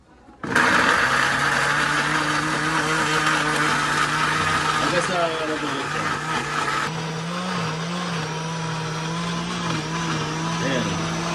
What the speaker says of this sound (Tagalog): Tapos blender natin.